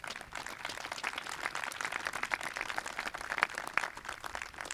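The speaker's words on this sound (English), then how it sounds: "Let's give them a round of applause." An audience claps at a college honors convocation, with distinct individual claps forming a moderate, uneven round of applause that carries on without talk.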